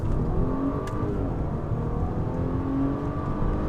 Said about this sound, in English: This car really does take off from a standstill though.